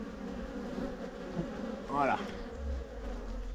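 Honeybees buzzing densely around one of four hive colonies, a close, steady swarm hum with individual bees whining past, while someone briefly speaks nearby.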